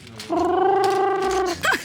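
A human voice imitates a pigeon with one sustained, nasal cooing tone that ends in a short rising warble, close and alone.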